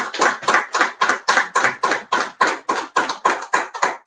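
An audience applauds at a book presentation, the claps landing in a steady, evenly spaced rhythm of about three per second, close and loud, with no voices.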